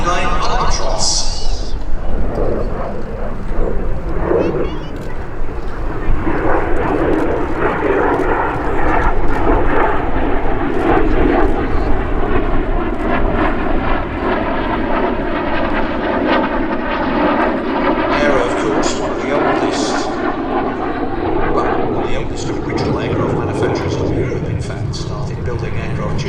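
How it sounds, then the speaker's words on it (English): An Aero L-39 Albatros jet roars loudly and steadily through an air show display pass, its broad engine noise swelling and shifting in pitch over nearly half a minute, with a voice talking over it. "This is the Aerosuperbatics L-39 Albatros."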